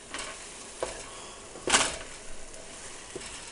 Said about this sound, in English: So we'll mix this up and just simmer it for a while.